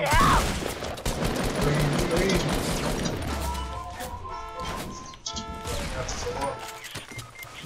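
Fortnite gunfire, a burst of rapid shots and crashing impacts against a building wall, loud and close at first, then dropping into scattered thuds and clatter, with a player talking over it.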